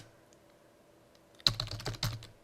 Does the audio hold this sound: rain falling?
no